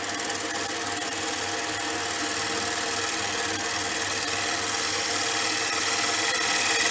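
A wooden bowl turned off centre on a lathe, the tool cutting steadily with a continuous broadband rasping hiss and scraping that holds even and close for the whole stretch, with no talk over it.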